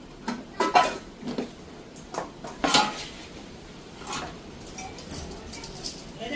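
Metal pot and utensils clatter and clink while salt is added during home cooking, several sharp knocks and scrapes in irregular bursts, close and fairly loud.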